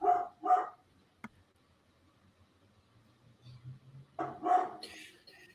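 A pet dog, a pug-sized companion in a home during a live online chat, barks in short bursts: two quick barks at the start, then a louder pair near the end, with a faint background murmur between.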